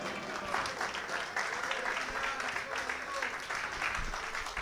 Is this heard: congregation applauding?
yes